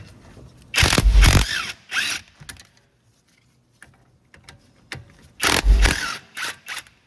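Ratchet working loose the two 13mm brake caliper bolts on a Cadillac SRX, in two loud close bursts of fast clicking separated by quiet handling sounds and a pause.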